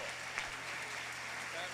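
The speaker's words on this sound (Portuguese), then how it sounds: "Uma salva de palmas para os nossos amigos aqui." A church congregation applauds in a steady, dense wash of clapping, with a voice faintly present over it.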